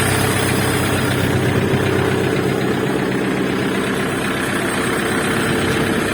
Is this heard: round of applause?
no